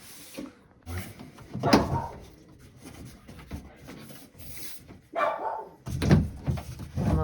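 Scattered dog barks from off-screen over shuffling and knocking room noises in a newly renovated bathroom, a few louder bursts near the start and end.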